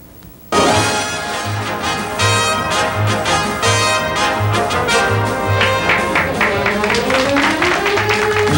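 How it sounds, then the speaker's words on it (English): A studio audience for an amateur-hour comedy show breaks into applause, a sudden dense burst of clapping that swells and carries on steadily, with music and voices mixed in beneath it. "Now let's have another round of applause for the Winona Lake Kitchens Matron Band."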